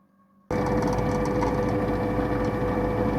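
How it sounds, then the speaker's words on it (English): An electric drill starts abruptly and runs steadily, boring holes in a homemade carburetor stand, with a loud, continuous whine and buzz that holds close for several seconds. "so now we'll drill a hole there and a hole there"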